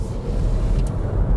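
An all-wheel-drive Volvo with 428 horsepower pulls under full throttle, a steady loud low engine and road roar that holds evenly throughout with no voices over it.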